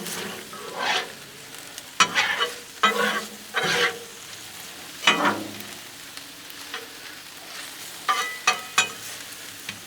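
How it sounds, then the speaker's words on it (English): Shrimp stir fry cooks on a Blackstone griddle, with a steady sizzle broken by about eight bursts of spatula scraping and tossing across the flat metal surface, close and fairly loud. "Stir up these shrimp. As you see, they're already starting to turn pink."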